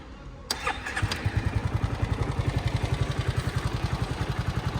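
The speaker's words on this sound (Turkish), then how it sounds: "motorun çalışmasını size anlatalım" A Yamaha Xmax 250-300 scooter engine starts after an oil change with a sharp crank, then settles into a close, steady pulsing idle with an even rapid beat.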